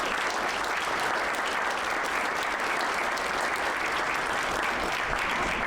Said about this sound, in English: can I have a round of applause for our panel?